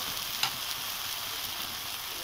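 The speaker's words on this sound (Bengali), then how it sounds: "এবার মশলাগুলিকে ভেজে নিচ্ছি।" Spices fry in a pan with a soft, constant sizzle close by, marked by one brief sharp crackle early on.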